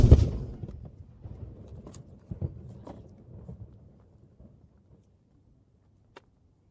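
Artillery guns firing a salute at the King Charles III proclamation ceremony, a booming shot at the start and another around two seconds, each rolling away into a fading rumble, distant and sparse.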